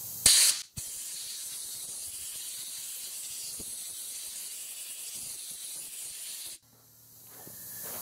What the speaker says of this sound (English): So first we're going to take compressed air to clean this off.